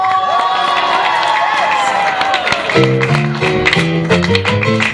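Audience cheering and scattered whoops fill a royal-themed Tangled theater show, starting under an announcer's voice and joined by bright musical notes midway, steady and loud throughout.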